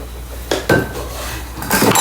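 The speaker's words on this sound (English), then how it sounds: "that I'm tipping over there" A glass jug tipped over on a kitchen bench during biscuit baking, giving a couple of loud clattering knocks of glass on a hard surface with a rattly scrape, close by and with no voices.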